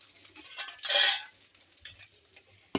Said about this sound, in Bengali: চালটাই ভাজবো